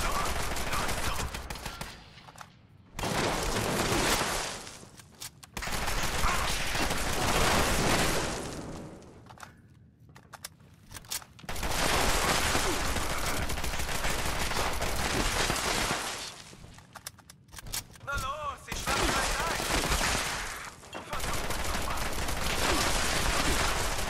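Weapons fire in Fallout 76 comes in long, dense bursts of rapid automatic shots, loud and close, broken by brief pauses between volleys.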